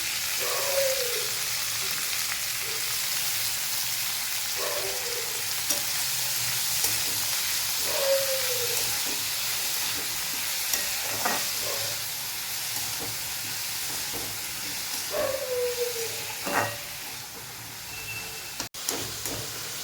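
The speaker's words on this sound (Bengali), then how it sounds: "বাঁধাকপিটা দিয়ে দিলাম, পেঁয়াজ পাতা আর পেঁয়াজটা দিয়ে দিলাম" Cabbage, spring onion and onion fry in hot oil in a pan, giving a steady, loud sizzle throughout, broken by occasional scraping stirs and light clinks.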